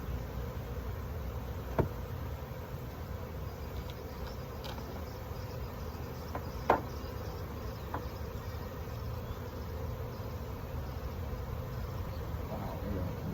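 Honey bees buzzing around an open hive during a spring inspection, a steady soft drone with a few faint clicks and knocks from the hive box.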